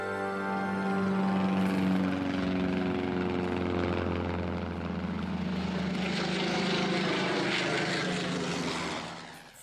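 Propeller-driven fighter planes in flight in a John Sturges war film, a loud continuous droning engine roar with a steady pitched whine that swells, holds and then fades toward the end, with no voices over it.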